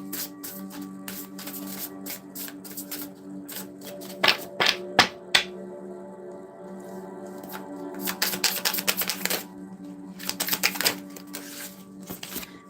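Tarot cards being shuffled by hand during a reading, coming as soft riffling bursts and flicks in uneven clusters over a steady low background hum, with a few sharper taps where the deck is squared.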